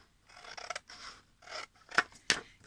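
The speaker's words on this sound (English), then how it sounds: "from this part I cut next to those score lines" Scissors cut paper along score lines for Valentine's letter boxes: several short, close snipping and rustling strokes, ending in two sharper, crisp snips, with no talking.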